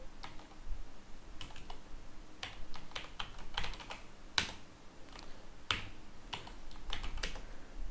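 Commands such as mkdir are typed into Windows CMD on a computer keyboard, heard as close bursts of rapid key clicks separated by short pauses, with a few sharper, louder strikes.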